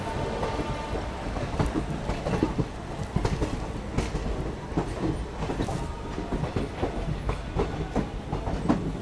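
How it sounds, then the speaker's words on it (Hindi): A Rajgir Intercity train pulling out of Danapur railway station, a continuous loud rumble with rhythmic clacking of wheels over rail joints, close and sustained throughout, no voices. "चलिए फाइनल डिपार्चर हो चुका है दानापुर रेलवे स्टेशन से।"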